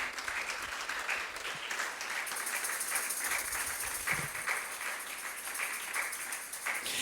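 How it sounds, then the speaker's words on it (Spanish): Church congregation applauding for the Lord during a Spanish-language sermon on baptism in the Holy Spirit, a steady wash of clapping filling the hall for several seconds. "¿Cuánto le dan un fuerte aplauso al Señor por tremenda verdad?"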